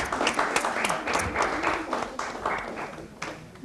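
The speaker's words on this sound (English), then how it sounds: "Big applause for them." Audience applause for a school science quiz team after a correct answer, a steady burst of many hands clapping at moderate distance that holds for several seconds with uneven swells.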